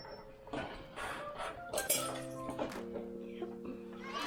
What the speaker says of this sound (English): So that was the sound of the chain hitting something.